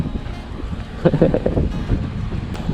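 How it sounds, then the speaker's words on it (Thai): Strong wind buffets the microphone at an open scenic spot in Chonburi, Thailand, a rough gusty rumble that swells and fades over a couple of seconds, close and unsteady. "ลมแรงมากรอบนี้"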